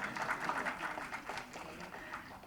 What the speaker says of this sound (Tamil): தயவு செஞ்சு நீங்களே ஒரு தடவை கைத்தட்டிருங்க